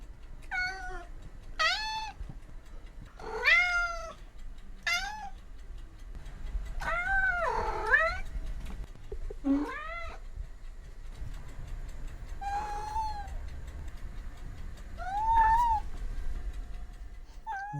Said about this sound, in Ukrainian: почути, як м'явчить кішка.